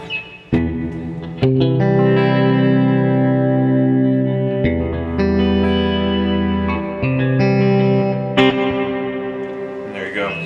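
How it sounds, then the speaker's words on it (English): Electric guitar chords through a VFE Yodeler pedal blending delay and reverb, notes ringing and echoing into a wash of sustained tone, with fresh strums every couple of seconds. "blend the delay and reverb together and get some interesting sounds"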